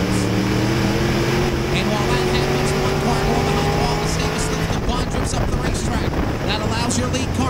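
Crate late model race cars roar around Virginia Motor Speedway, a loud continuous engine drone with shifting pitch and wind buffeting, under an announcer's steady commentary.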